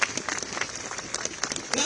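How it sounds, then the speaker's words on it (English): Audience applause at a London protest against a new Chinese mega embassy, scattered clapping and crowd noise, fairly faint and brief, with some voices mixed in. "Please give them a round of applause."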